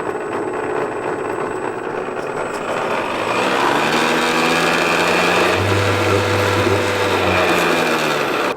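The engine of a scale RC lobster boat idles with a continuous, fairly loud mechanical whir and buzz, close by and steady, with a low droning tone that grows fuller toward the end.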